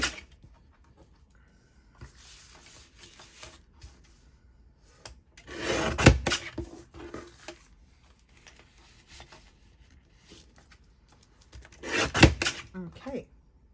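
Paper being trimmed for window belly bands, with brief rasping cutting strokes in two short bursts between quieter rustling handling, close and soft.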